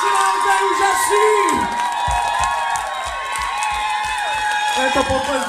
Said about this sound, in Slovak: Tento potlesk je pre vás.